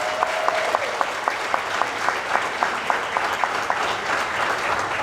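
Sustained audience applause for retirees at an ELPS and ELEA recognition reception, a dense room of clapping hands holding a steady level throughout, with a few sharper claps standing out.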